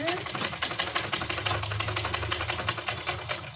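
A sewing machine stitches piping onto a garment neckline, a fast steady mechanical chatter of needle strokes, close and continuous throughout.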